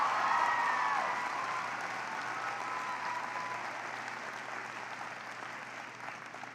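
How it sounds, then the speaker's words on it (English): An audience applauds a high school marching band at a public event, a broad wave of clapping that starts strongest and slowly tapers off, heard from a distance. "Give them a big round of applause."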